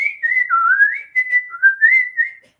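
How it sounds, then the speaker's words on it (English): A woman whistles a wavering, sliding tune alone, close and clear, in short phrases with brief pauses between them. "I'm whistling."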